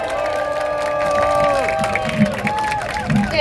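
Audience clapping and cheering at an outdoor political rally at Cheonggyecheon in Seoul for candidate Kim Moon-soo: loud crowd applause over sustained tones, with scattered shouts.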